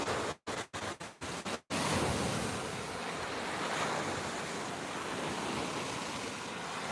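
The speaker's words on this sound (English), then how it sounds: "checking the waves" Ocean waves and surf roar steadily at close range, a broad continuous wash of breaking water with wind across the microphone. The first seconds are broken by several short dropouts, and no one speaks.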